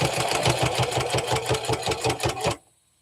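A sewing machine stitches a row on a Momo the Mouse quilt project, its needle thumping in a fast, steady rhythm close by for about two and a half seconds before stopping abruptly.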